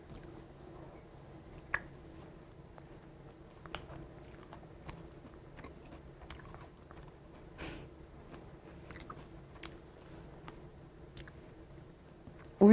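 Soft, sparse chewing and crunching of green onion flavored Chex Choco cereal soaked in milk, quiet close-up bites with occasional sharper crunches against a faint room hum, no talking.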